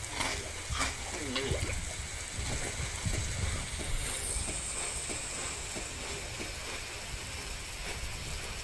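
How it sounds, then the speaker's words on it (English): Character swimming through water in the Eat Sand video game, with soft repeated splashes and watery churning over a steady game background, close and moderately loud. "Let's try to swim to that island, shall we?"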